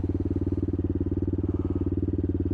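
A 2018 CCM Spitfire Scrambler motorcycle idles steadily nearby with an even, rapid single-cylinder thump and a low rumbling pulse. No voices are heard over it.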